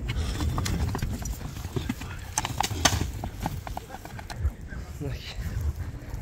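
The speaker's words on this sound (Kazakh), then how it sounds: "Атты көрүнөр достор. Акырын жайда бастырып көрсөтүп коелу." A horse walks slowly, its hooves clip-clopping in a steady, fairly close rhythm. A voice talks over the hoofbeats throughout.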